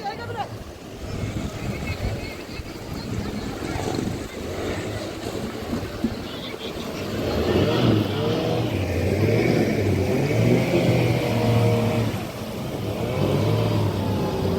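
A fishing boat heads out under a bridge toward the sea, its engine a continuous low drone that swells partway through, mixed with wind buffeting the microphone and people talking over it.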